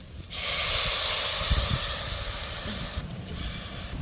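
Green chillies sizzling in hot oil as they are stirred in a pan, a loud, steady hiss that rises quickly, holds for a few seconds with faint stirring knocks, then tapers slightly.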